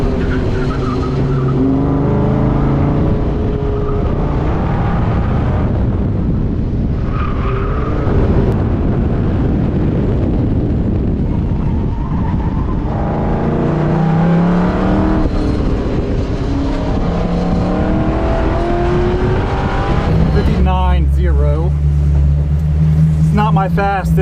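Car on an autocross run, engine revving hard with bursts of tire squeal and skidding through the cones, loud and close throughout.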